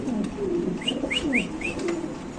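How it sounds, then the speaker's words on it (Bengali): A pair of grizzle beauty pigeons coo softly and repeatedly, close by, over a low steady background hum. "এখানে আছে একজোড়া আফসান গ্রিজেল বিউটি কবুতর"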